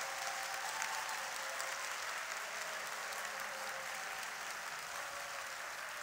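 A church congregation gives sustained applause for newly appointed teachers at a teacher commissioning service, a continuous dense wash of clapping from a large crowd, even and moderately distant, with no voices over it.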